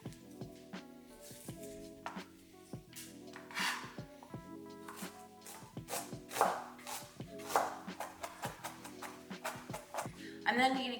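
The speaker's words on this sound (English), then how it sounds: "We're just going to mince our green onion. Then we're going to also mince the ginger." A knife minces green onion and ginger on a cutting board, giving quick, irregular taps and chops that come in uneven runs, fairly quiet, over a soft tonal background.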